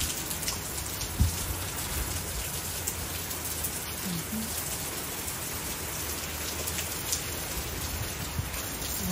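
Steady rain falls during a September storm, a continuous dense hiss of drops on surfaces with an occasional faint knock.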